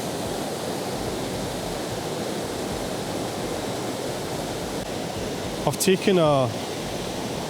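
Steady broadband rush of a Glencoe waterfall's lower falls, a constant roar of flowing water with someone briefly speaking over it near the end.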